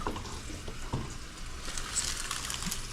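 Kitchen tap water running steadily into a sink, a continuous splashing hiss close by with faint clatter in the background and no talking.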